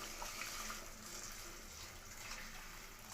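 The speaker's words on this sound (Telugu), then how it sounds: "ఇప్పుడు దీంట్లో వాటర్ వేసుకుందాం." Water poured into a pot of chicken biryani, a steady, fairly faint hissing pour that runs unbroken for a few seconds with no talk.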